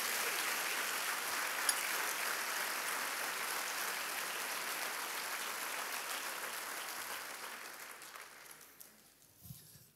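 A church congregation applauds together in a dense, steady wash of clapping that holds strong for several seconds, then thins and fades away near the end, with no voices over it.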